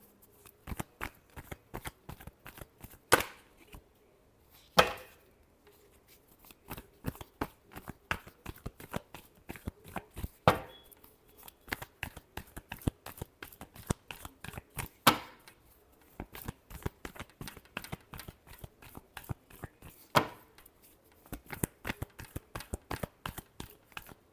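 Tarot cards are shuffled close by in a long run of crisp, rapid snaps and riffles, with a few louder slaps standing out among the rhythmic flicks.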